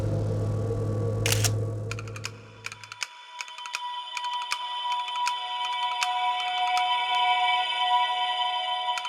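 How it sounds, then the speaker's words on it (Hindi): A phone camera snapping photos in an indoor room: a burst of sharp shutter-like clicks and beeps repeats through most of the clip, over a steady electronic tone, with no talking. "तू पहले फोटो खींचती हूँ तेरा।"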